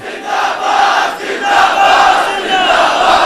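A large crowd at a religious gathering chants a slogan in unison, a loud, sustained roar of many voices rising and falling in rhythmic waves.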